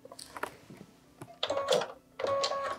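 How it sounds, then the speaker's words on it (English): A home embroidery machine stitches book outlines on a Christmas library mini: quiet, rapid mechanical needle chatter that comes in short bursts, with brief pauses between runs. "Machine step 9 is stitching those book outlines."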